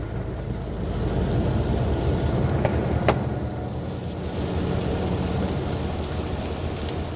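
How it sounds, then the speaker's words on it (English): Hard rain drumming on a truck heard from inside the cab, a steady dense wash with low road rumble beneath and a couple of brief sharper taps, continuous throughout. "raining hard."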